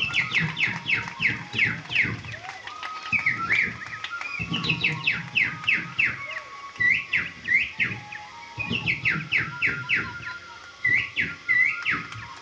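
A man in a comedy mimicry act imitates a talking parrot with rapid, repeated whistled chirps and squawks that come in bursts over a low vocal rumble, loud and close.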